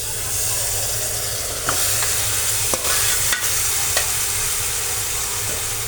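Meat coated in masala is stirred in a frying pan, with a steady sizzle throughout and several sharp scraping clinks of the spoon against the pan, heard close up and alone.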